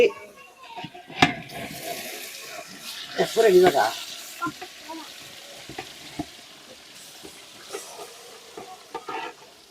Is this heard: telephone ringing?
no